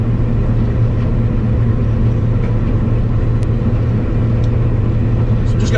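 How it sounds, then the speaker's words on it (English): Combine harvester running while cutting a field's headland on the first day of harvest, a loud, steady low engine rumble and drone heard from on board, continuous and without talk. "I do like combining when it's going well."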